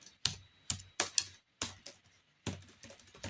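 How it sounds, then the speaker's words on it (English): Typing on a computer keyboard: close, uneven keystrokes with a few quick clusters and short pauses, crisp clacks with no talk. "You can write I am Trump."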